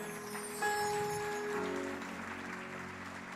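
A church congregation applauds during a sermon: a steady wash of clapping from many hands, carried over sustained keyboard-like tones, holding a fairly even level throughout.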